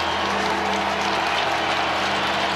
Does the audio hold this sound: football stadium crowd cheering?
yes